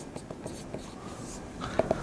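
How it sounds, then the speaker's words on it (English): A pen writing by hand, a run of small, quick scratching strokes up close with light tapping rhythm, fairly soft and alone. "Let me write the conclusion here."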